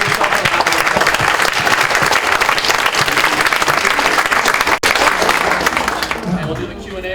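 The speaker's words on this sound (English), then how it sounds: "So give yourself a round of applause." An audience applauds at the close of a lecture in Toronto, a loud sustained burst of many hands clapping that begins to thin out near the end.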